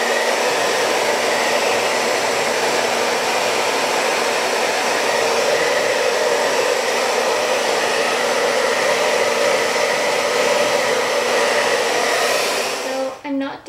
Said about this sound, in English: I am seriously loving this hair dryer.